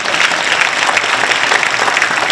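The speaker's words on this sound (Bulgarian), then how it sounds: "Аплодисменти за Емо." Loud, dense applause from a crowd welcoming back a musician before he plays piano, a steady wash of clapping heard close for the whole stretch.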